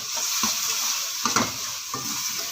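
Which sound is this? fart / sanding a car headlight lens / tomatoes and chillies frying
tomatoes and chillies frying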